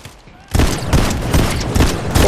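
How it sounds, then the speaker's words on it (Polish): Gunfire in the video game Fortnite rings out as a loud, rapid burst of repeated shots close by, following a brief quiet moment. "Strzela do mnie."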